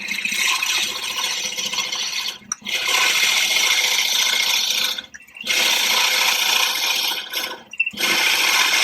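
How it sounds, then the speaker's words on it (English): Power drill boring a hole about 25mm deep into scrap wood: a loud, continuous whirring drone with grinding texture, broken by three brief pauses as the bit eases off and restarts. "I'm going to drill this hole about 25mm deep."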